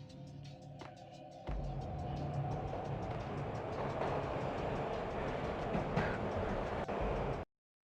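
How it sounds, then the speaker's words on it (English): A train ride in the video game Max Payne: a steady, loud rumble of rolling rail cars with rhythmic clicking over the tracks, starting quieter and then swelling into a continuous roar that stops abruptly. "This was my second train ride of the night."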